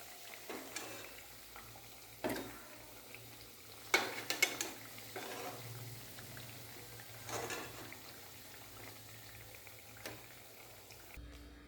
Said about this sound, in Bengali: বাকি পকোড়াগুলো আমি তেল থেকে এবার তুলে নেব।